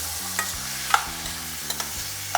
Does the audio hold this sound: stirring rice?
yes